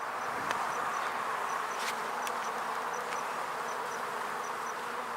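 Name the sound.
honey bees buzzing during beehive inspection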